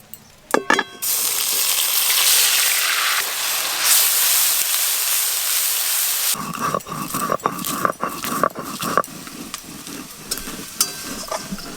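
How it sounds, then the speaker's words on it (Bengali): Onion paste frying in mustard oil, first a short clatter, then a loud steady hiss of sizzling, followed by a quieter frying bed with repeated scraping and tapping of a spatula stirring the paste. "পেঁয়াজ বাটা প্রথমে একটু ভালো করে ভাজা ভাজা করে নিয়েছি"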